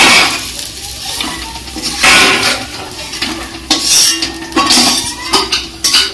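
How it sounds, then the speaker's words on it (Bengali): Fried mourala fish lifted out of a hot pan with a metal spatula, giving repeated clinks and scrapes of utensil on cookware over a faint background sizzle, close and moderately loud. "আমার এই মাছগুলো ভাজা হয়ে গেছে, এগুলো এবার তুলে রাখবো।"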